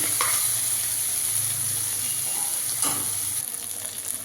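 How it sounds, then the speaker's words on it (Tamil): Cooked rice being stirred into mint gravy in a hot pan, a steady soft sizzle with scraping stirs and a few sharper clinks of the spoon, no voices. "சாப்பாடு எடுத்து இதில் நம்ம கொட்டி கிளறிக்கலாம்"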